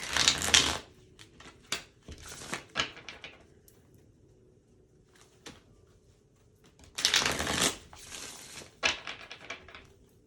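Tarot cards from the Everyday Witch and Light Seers decks are shuffled close by in two bursts of crisp riffling and flapping, separated by a quiet stretch of soft taps and card handling.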